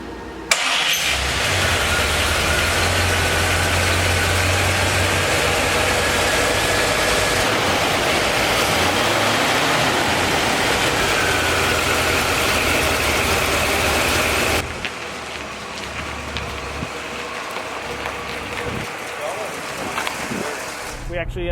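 A 1972 Cadillac Eldorado convertible, freshly restored, fires up and settles into a steady, loud idle that runs for about fifteen seconds before the level drops to a quieter, rougher running sound.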